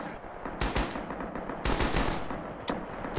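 An M1918 BAR automatic rifle fires in the Rising Storm video game, letting off several short, loud, close bursts separated by brief pauses, with no voices over the shots.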